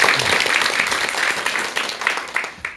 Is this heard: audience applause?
yes